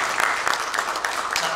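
A church congregation in New Jersey gives a burst of hearty applause for newly installed deacons at an ordination service, a dense, steady wash of clapping throughout.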